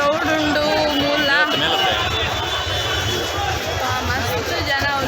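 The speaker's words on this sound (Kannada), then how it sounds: "ಕ್ರೌಡ್ ಉಂಡು ಮೂಲ" Dense crowd chatter and babble fill a busy Chickpet street market during Varalakshmi festival shopping, a steady wash of many voices with traffic rumble underneath and no single speaker standing out.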